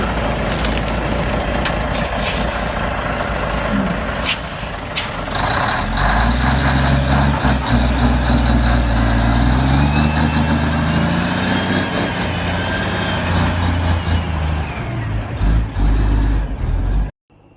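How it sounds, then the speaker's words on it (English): A log truck loaded with wood roars as it climbs a steep forest slope, its engine loud and close with rising, straining pitch and occasional creaks and knocks from the load. "A truck loaded with wood is crossing a steep slope, the roar of the engine showing its superior power."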